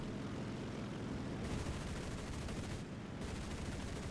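Cannons of an A7M2 fighter plane in War Thunder fire in dense sustained bursts over a roaring engine drone, loud and continuous with brief pauses between volleys and no voices.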